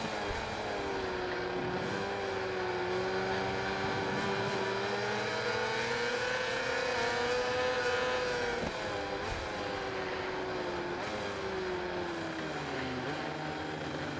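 Racing motorcycle engine in MotoGP 21 drones loud and steady, its pitch rising and falling through gear changes over a long stretch, with no talk.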